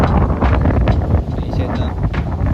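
Strong wind buffets the microphone at a cliff campsite above a beach, a loud continuous roar with gusty surges throughout.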